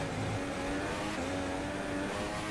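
A Formula 1 car engine in the F1 2016 video game, qualifying at the Singapore Grand Prix, with a steady loud high-revving whine holding close and constant.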